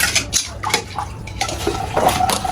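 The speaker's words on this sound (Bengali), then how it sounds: "আমি আসলে কড়াইটা এখন পরিষ্কার করতেছি" Scrubbing a blackened, partly burnt wok (kadai) while washing dishes, with close metallic scrapes and clinks in an uneven rhythm over faint running water.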